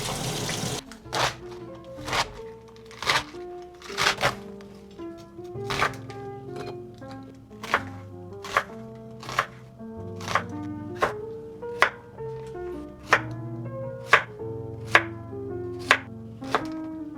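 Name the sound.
knife chopping vegetables, baby cabbage, on a cutting board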